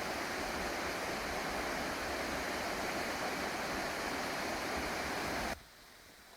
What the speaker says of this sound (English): You can get really close to this waterfall.